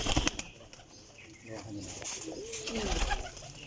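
Teddy pigeons coo in low rolling phrases amid rustling and a brief wing flutter, with someone talking faintly nearby.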